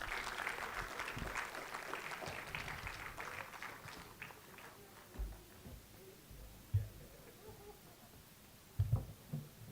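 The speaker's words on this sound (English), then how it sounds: "Let's have a big round of applause for them." An audience at an institute's annual day award ceremony applauds; the clapping starts moderately loud and dies away within a few seconds, followed by a quieter room with scattered thumps and footsteps.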